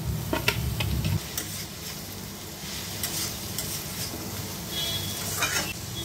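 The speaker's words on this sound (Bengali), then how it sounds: "চিচিঙ্গে কড়াই দিয়ে ভালো করে নাড়িয়ে ঢেকে দিচ্ছি 5 মিনিটের মতন।" Cut snake gourd going into onions frying in a wok, a clattering burst of stirring at first, then a steady sizzle with light spatula taps scraping the metal; no talking.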